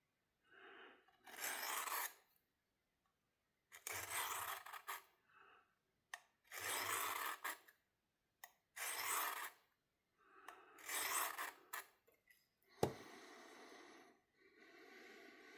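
Repeated sharpening strokes of a Timbers Edge knife on a Work Sharp Field Sharpener, a close, dry rasping scrape in about six separate passes of a second or so each, with short quiet gaps and a sharp tap near the end.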